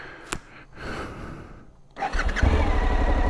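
A Suzuki V-Strom 1050 XT motorcycle, started in neutral with its quick-start system, gives a few faint mechanical clicks before the engine catches and settles into a loud, close idle.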